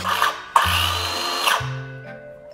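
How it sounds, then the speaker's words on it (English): A power drill bores holes into a metal go-kart frame in several short bursts, its motor whining at a steady pitch between brief pauses, close and loud. "I need to drill a couple holes in this so we can screw it on"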